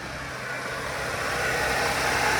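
Audi A6 C6 3.0T supercharged engine running just after starting, a steady broadband hum that builds slightly and holds evenly for a couple of seconds, close by with no voices.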